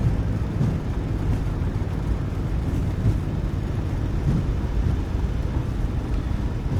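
Reverse thrust roars from a PMDG 737 landing in the MSFS 2024 flight simulator, a steady, loud broadband rumble with wind-like hiss that holds evenly throughout without pause.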